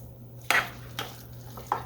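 A spoon scrapes and clacks around a bowl of bologna salad mixture, three distinct stirring strokes spaced unevenly over a quiet background.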